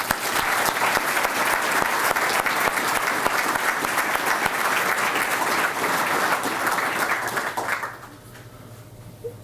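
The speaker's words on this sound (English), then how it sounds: "Let's give them a round of applause." Warm, sustained applause from the audience for Army retirees at a Fort Riley retirement ceremony, holding steady before fading out near the end.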